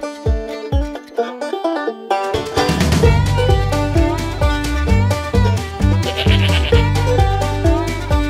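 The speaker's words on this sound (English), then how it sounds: "Sheep." Sheep bleat loudly and repeatedly, a string of wavering close-up calls following a brief opening of light tapping, with no voices.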